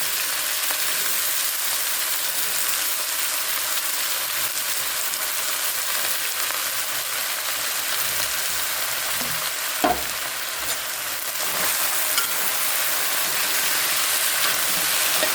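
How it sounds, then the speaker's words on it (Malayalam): Potato pieces fry in hot coconut oil, a loud, continuous close-up sizzle like heavy rain, with a brief clink and spatter partway through and the hiss rising slightly toward the end. "എണ്ണ ചൂടായി, നമുക്ക് ഉരുളക്കിഴങ്ങിടാം."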